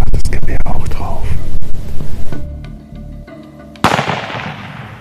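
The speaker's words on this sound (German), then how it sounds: "Der Schuss kam von hinter uns." A single distant hunting rifle shot during a hunt cracks out sharply near the end and rings off in a fading tail, after a stretch of hushed voices and movement.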